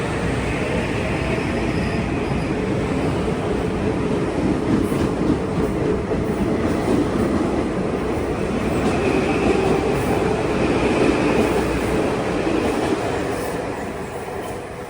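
A Metro-North commuter train passes at Milford, Connecticut, with a loud, steady rolling roar of wheels and cars close by that runs for the whole stretch and eases off slightly at the end.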